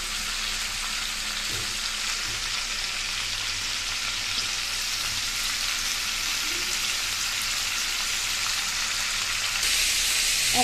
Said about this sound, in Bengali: মাথাটাকে লাল লাল করে ভেজে তুলে রাখব